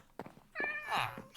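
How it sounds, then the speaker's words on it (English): Cat in the Minecraft video game, giving one short, faint meow within a brief clip, with no one talking. "I see that kitty."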